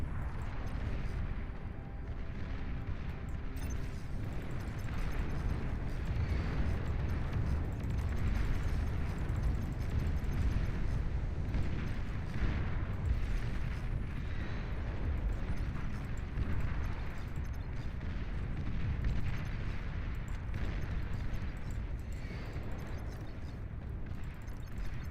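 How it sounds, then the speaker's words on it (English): Thermonuclear bombing in a turret-building video game rumbles on as a continuous, low, dense roar of layered explosions, fairly faint and without a break. "Some thermonuclear bombing, I think, doing some very good work over here."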